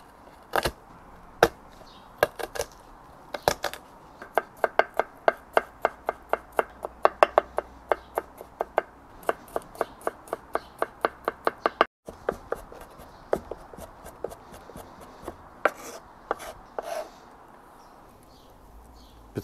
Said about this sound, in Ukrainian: тепер нарізаємо чесничок